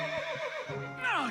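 A pegasus in the video game Fire Emblem Awakening lets out a short, clear whinny that rises and falls, sounding alone and close.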